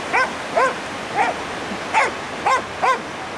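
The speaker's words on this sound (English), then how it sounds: "And in the background, you may hear my dog Jack" A dog barks six times at a steady, unhurried pace, clear and moderately close, each bark short with slight whining tone.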